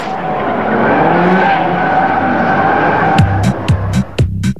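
A drifting car lets out a long, loud tire squeal over a steady engine drone, then a run of sharp, choppy skid bursts near the end, with no talking.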